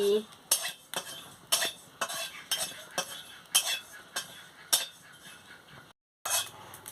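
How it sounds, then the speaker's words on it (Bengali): A metal spatula scrapes and taps rhythmically against a wok as cumin seeds are fried and stirred on a home stove, with roughly a dozen sharp clinks at a steady pace, fairly faint, followed by a brief drop-out. "জিরেটা দিয়ে দিচ্ছি। জিরে দিয়ে ভালো করে ভেজে নিচ্ছি।"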